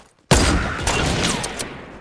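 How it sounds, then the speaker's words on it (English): Dense burst of rapid gunfire in Fortnite, loud and sustained for nearly two seconds after a brief quiet start, with overlapping shots crackling together. "I got shot in so many different directions"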